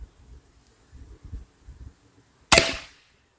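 A Gunsan 5.5 mm PCP air rifle fires once at a target, a sharp, loud crack with a brief tail, following soft faint rustling and handling noises.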